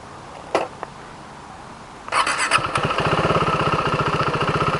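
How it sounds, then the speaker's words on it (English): An adventure motorcycle running low on fuel cranks briefly after a couple of clicks, then fires and settles into a rapid, steady, close-up engine putter. "Let's see if I could start it up."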